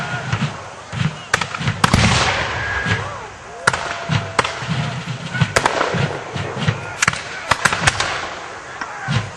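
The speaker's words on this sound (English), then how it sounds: "British artillery attempting to cover their retiring infantry" Artillery and musket gunfire at a reenactment of the siege of Fort Erie, with booming blasts and sharp cracking shots scattered irregularly across the clip, some close and loud, others distant, under a commentator's voice.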